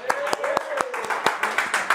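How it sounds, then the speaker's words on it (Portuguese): A few seconds of clapping hands, a quick burst of claps with voices talking over it. "Salva de palmas, nosso herói."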